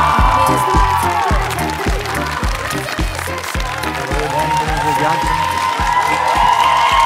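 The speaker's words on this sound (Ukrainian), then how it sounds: "Андрій Шевченко, ваші оплески!" Studio audience on a Ukrainian talk show applauds and cheers loudly for a famous football guest, a steady dense wash of clapping with rhythmic music pulsing underneath throughout.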